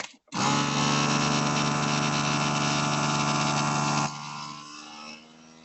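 A vacuum sealer starts with a click and runs as a loud, steady motorized whir, then drops in pitch and volume as the air is drawn out of a bag holding duck breast.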